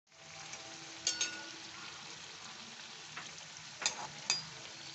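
Snacks frying in hot oil, a steady close sizzle with a few sharper crackles and spatters breaking through, no voices.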